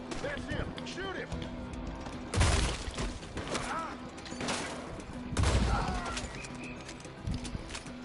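Gunfire in Red Dead Redemption 2 comes as a couple of heavy booming shots a few seconds apart, amid horse hooves, birds and shouted dialogue.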